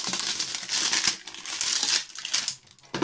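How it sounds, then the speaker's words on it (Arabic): Paper crinkles and rustles continuously as a purchase is unwrapped up close, with bursts of crumpling and brief pauses between handfuls. "نبعد بس الورق ده عشان الصوت."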